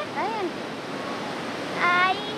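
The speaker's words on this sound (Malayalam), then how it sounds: "അപ്പൊ നമ്മുടെ തോട് കുത്തി മറിയാണ്. ഭയങ്കര വെള്ളം കൂടിയിട്ടുണ്ട്." A swollen stream in flood rushes in a constant broadband roar, with a voice briefly heard over the water at the start and again near the end.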